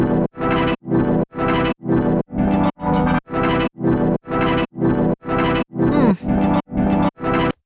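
Resampled Serum synth patch chopped into short slices plays back as a rhythmic run of about a dozen loud, evenly spaced bursts, each gritty and heavily effected with a chorus-like, distorted character.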